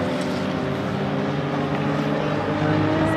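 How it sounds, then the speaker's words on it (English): Spec Honda CRF50 mini bikes race at a mini GP track, a dense, steady engine drone at a moderate distance with a rising buzz near the end. "DJ's on a brand new Spec CRF 50, direct from the factory to the racetrack"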